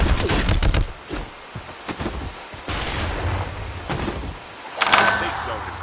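Gunfire in a mobile battle-royale video game, several sharp shots and bursts, some near and some distant, mixed with game ambience while players talk over voice chat.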